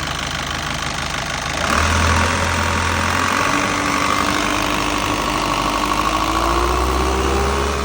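An Isuzu 4HG1 Turbo diesel engine idles steadily close by, a low continuous rumble with a rhythmic knock that picks up slightly after the first couple of seconds and holds for the rest.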